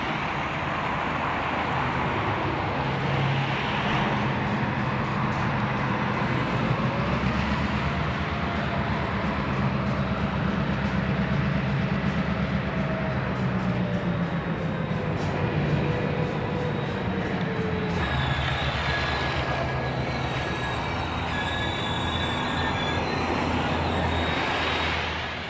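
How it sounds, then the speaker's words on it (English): Mount Hood Railroad steam locomotive 2250, nearing the end of an excursion run, rolls past the yardboard beneath Highway 30, giving a steady, loud rumble of wheels and engine that holds throughout, with a faint whistle-like tone near the end. "Looking up from atop Highway 30, 2250 passes the yardboard, nearing the end of another excursion run."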